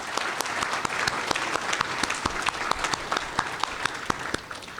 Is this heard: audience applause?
yes